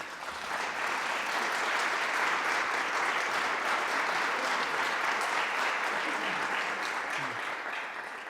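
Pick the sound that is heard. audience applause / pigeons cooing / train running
audience applause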